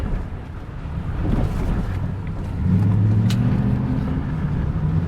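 Engine of a BMW E70 X5 working under light throttle while off-roading on a mountain trail in Southern California, a steady close drone that swells a little louder about halfway through, with wind buffeting the microphone.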